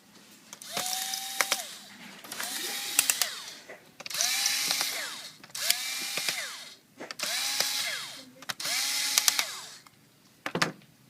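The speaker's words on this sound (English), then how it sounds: "So, remove those screws for the heatsink." A power screwdriver backs out the heatsink screws on a Samsung NP700Z7C Series 7 laptop in six short whirring bursts with brief pauses between them, close up and alone.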